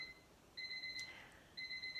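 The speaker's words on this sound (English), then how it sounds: "my timer just went off." A kitchen timer alarm goes off in two bursts of rapid, high electronic beeps separated by a short pause. The beeps are fairly faint and heard alone.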